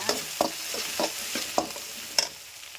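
A spoon stirs frying brain seasoned with turmeric and sambar powder in a pan, with regular scraping strokes about every half second over a soft, steady sizzle, close and moderately quiet.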